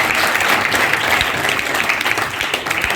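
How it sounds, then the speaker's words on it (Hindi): Students in a university hall break into loud, sustained applause, a thick continuous patter of many hands with a few faint crowd murmurs underneath, close and steady throughout. "तालियां हो जाएंगी।"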